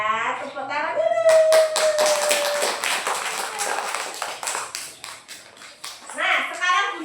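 Children clap together after a storytelling session, a run of rapid, uneven hand claps in the middle of the stretch, with a voice speaking before and after.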